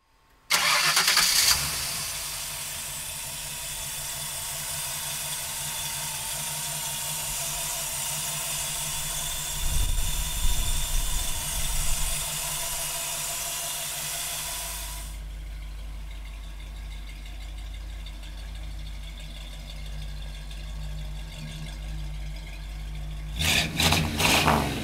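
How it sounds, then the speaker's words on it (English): A 1956 Ford Parklane with a 302 V8 cranks and fires up, then settles into a steady loud idle with a few revving swells, close up and with no talking. "We're going to fire it up for you right now."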